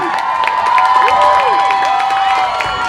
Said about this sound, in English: Blasters fans, come on, get loud for Luis